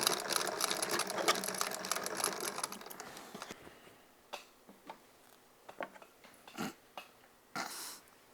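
A sewing machine stitches through fabric, a dense continuous whirring run for about three seconds, then it stops and gives way to scattered short ticks and bursts of handling noise, fairly close.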